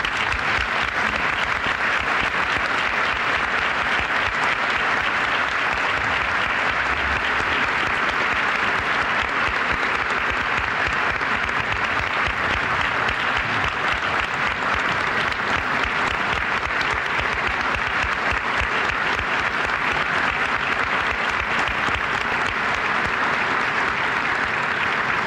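A large audience applauds steadily and loudly, sustained clapping filling the room without a break, welcoming former ambassador and mayor Andrew Young at a 1991 event in Jacksonville, Florida.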